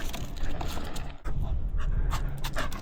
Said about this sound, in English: what a strong dog